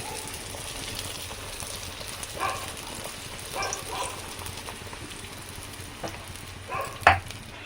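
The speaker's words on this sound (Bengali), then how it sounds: "এখন কড়াইটা গরম হয়ে গেছে, এই যে এখন পুরিগুলো ভেজে নিই" Puris deep-frying in hot oil in a kadai, a faint, soft bubbling sizzle with occasional small crackles and pops.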